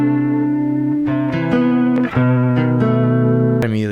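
Guitar sample from the Nat Bass Vanguard guitar kit, clean sustained notes picked one after another in a slow melodic phrase, close and full with a final note sliding at the end.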